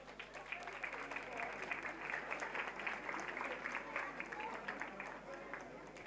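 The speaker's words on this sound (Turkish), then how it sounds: "Bir kez daha alkışlıyoruz şöyle." Wedding guests in an event hall break into steady applause after jewellery is presented to the couple, sustained clapping heard at a moderate distance over a low hum.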